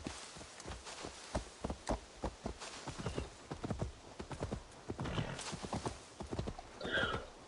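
Horse hooves clip-clop in a steady walking rhythm in the Assassin's Creed Valhalla video game, close and fairly faint, with a brief whinny near the end.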